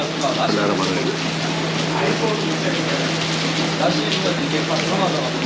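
Heavy rain falls in Istanbul as a dense, steady hiss of water with a constant low hum running underneath throughout.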